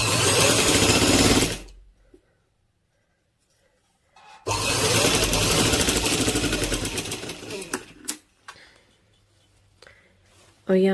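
Sewing machine stitching a girl's frock runs in two loud, close bursts, one about one and a half seconds long and a longer one of roughly three and a half seconds, separated by near silence, then quieter handling noises.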